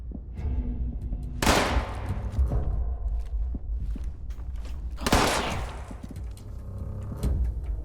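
Gunfire in the video game Fallout 76. Two loud close bursts of shots stand out against a steady low rumble, with scattered faint cracks between them and no talking.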